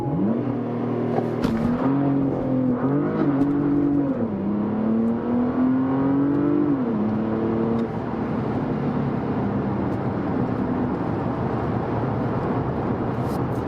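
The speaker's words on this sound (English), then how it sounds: "So in Sport Plus, traction control off, foot on the brake, smash the throttle and hold on for dear life." A Porsche Panamera 4S E-Hybrid in Sport Plus with traction control off makes a launch control start, its loud, close engine note rising in pitch with clear gear shifts, then settling into a steady whir.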